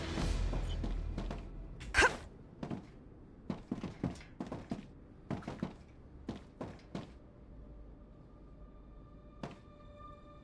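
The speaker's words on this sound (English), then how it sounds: "Reloading." Weapon reloading in the video game Star Rupture: a quick series of mechanical clicks, thunks and clacks, close and crisp, trailing off into a quiet hum.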